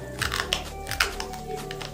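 Several sticks of dry spaghetti are bitten all at once, giving sharp, brittle crunches and crackles that repeat as the pieces snap between the teeth, close up, with faint background hum.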